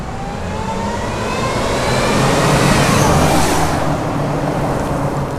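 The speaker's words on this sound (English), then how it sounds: "we're going to see how well this supercharger sounds and looks driving by" A vehicle powered by a Toyota 5VZ-FE 3.4L V6 with a TRD supercharger drives past, its broad roar building to a peak midway and then easing off as it moves away, with no talking.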